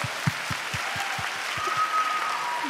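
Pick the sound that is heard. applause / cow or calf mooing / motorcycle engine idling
applause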